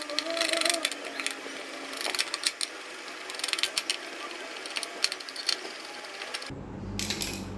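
Phillips screwdriver unscrewing the base screws of a mixer grinder to open it, a rapid close ratcheting clicking in uneven bursts, ending with a short pause and a shift in tone.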